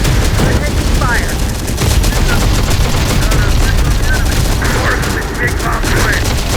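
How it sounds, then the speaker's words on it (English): Sustained gunfire from a Terminator: Dark Fate - Defiance battle, with rapid machine-gun bursts and shots crackling continuously at loud volume, faint radio-style voices and effects mixed underneath. "We're taking fire."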